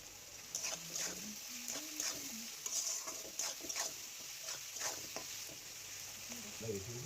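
Food sizzles in a pan while being stirred for a chicken kosha recipe, a steady hiss broken by rhythmic scraping, with someone speaking over it.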